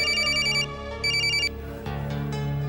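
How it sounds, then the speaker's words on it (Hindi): A telephone rings unanswered indoors in a drama scene, two clear electronic ring bursts repeating close and loud, then fading into a low hum with no one picking up. "ये अमन अपना फोन क्यों नहीं उठा रहे?"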